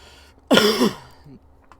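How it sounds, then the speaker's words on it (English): A single loud, harsh cough bursts out close to the microphone, lasting about half a second, followed by a faint short throat sound and quiet room tone. "That was a cough."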